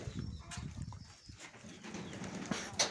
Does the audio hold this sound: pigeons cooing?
yes